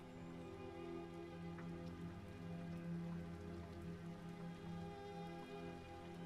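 Steady rain patters on surfaces throughout a rainy scene in the zombie survival game SurrounDead, a continuous even wash of drops with no talk over it.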